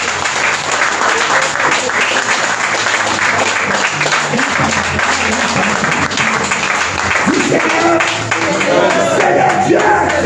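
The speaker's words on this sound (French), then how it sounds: "Acclame fort pour le Seigneur." A church congregation at a prophetic conference applauding and cheering loudly for the Lord, dense sustained clapping from a large crowd with scattered shouts, continuous for the whole stretch.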